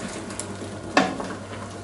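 Sautéed mushrooms sizzle softly in a large pan, with a single sharper scrape of a stirring utensil partway through over the steady low frying noise.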